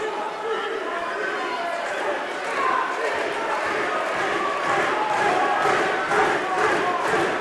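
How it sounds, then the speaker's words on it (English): Crowd at a live MMA event stomping and cheering a fighter's name, a steady dense roar of voices and rumble throughout, with a commentator talking over it. "Fans stomping their feet, cheering the name of Keith Barston here"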